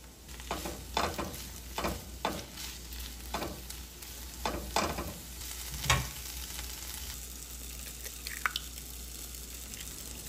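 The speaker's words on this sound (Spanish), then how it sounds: "en un sartén voy a agregar un chorrito de aceite y voy a agregar mi espinaca para empezarla a freír" Spinach frying in a splash of oil in a pan, a continuous close sizzle broken by repeated crackling bursts and spatters, with no talking.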